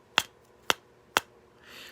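Three sharp, evenly spaced taps on a stretched deer hide meant for a rattle give short, dry, fairly high-pitched knocks that die away quickly, followed by a soft hiss.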